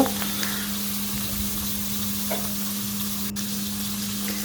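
Thick-cut eggplant and thin potato slices frying in hot oil, a steady close sizzle with small crackles and a faint low hum underneath, no talking.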